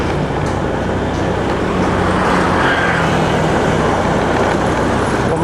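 Busy, congested road traffic near AEON Mall in Deltamas, Bekasi, makes a dense, continuous roar of car and bus engines and tyres. It is loud and close throughout, with no talk.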